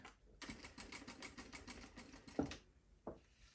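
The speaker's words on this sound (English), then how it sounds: "I'm sewing straight down that line" A home sewing machine stitches a straight seam along pinned fabric: a rapid, even run of mechanical stitching lasting about two seconds, followed by a sharp clack and one more short click, close and fairly quiet.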